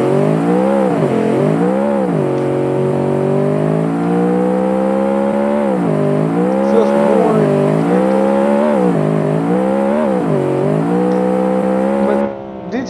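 A small 660cc inline-three car engine in BeamNG, revving steadily and loudly for the whole stretch, its pitch rising and dipping in repeated waves as the throttle swells and eases, with no voices over it.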